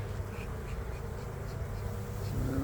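Honeybees swarm around an open hive during an inspection, a dense, continuous buzz filling the air close by, steady and fairly loud, rising slightly toward the end, with no voices.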